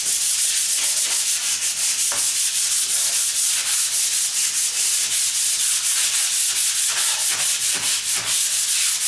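Continuous loud sanding on a door, a dense rough rubbing hiss with rhythmic back-and-forth strokes and no voices.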